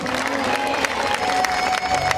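An audience at a Shrimad Bhagwat Katha in Bhorgarh village claps in brisk rhythmic bursts, with a sustained voice or musical drone running underneath.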